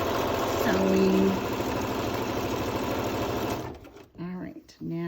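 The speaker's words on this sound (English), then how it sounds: "We're sewing, sewing, sewing, sewing, sewing," A sewing machine stitches a cloth face mask in a fast, steady mechanical whir for several seconds, then stops, followed by short broken bursts of stitching at close range.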